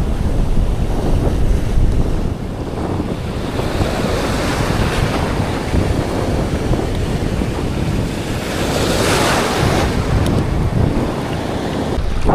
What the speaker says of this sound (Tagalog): Palakas na ng palakas yung alon guys